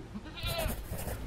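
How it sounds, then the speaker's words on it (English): Baby goat bleating once on a farm, a short wavering cry in the middle of the clip, near and fairly quiet over low background noise. "Baby goat. So cute."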